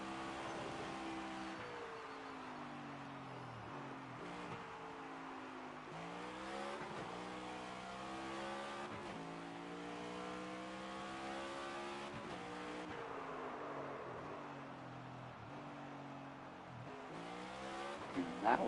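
Race car engine in the NASCAR 25 video game, running a backwards lap of Martinsville, droning steadily throughout with rising and falling revs as it shifts and accelerates, plus brief tire squeal, loud and continuous.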